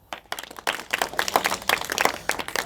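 Children clap together in a classroom during a maths lesson, with short irregular bursts of hand claps building into a lively, fairly close round of clapping.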